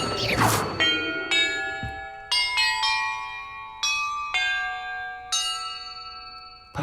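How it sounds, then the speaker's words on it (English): Bells struck one at a time in the video game Hogwarts Legacy, about a dozen clear ringing tones at different pitches, each decaying before the next, after a whooshing magical onset. "Perhaps the map contains clues about the order I'm supposed to ring the bells in."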